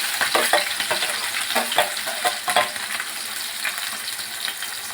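Onion and green chillies go into hot oil and fry: a bright, crackling sizzle with dense pops and stirring scrapes for the first few seconds, settling into a steadier, softer fry, close by with no voices.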